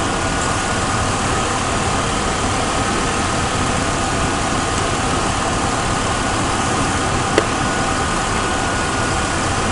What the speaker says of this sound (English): I'm going to speed the engine up now.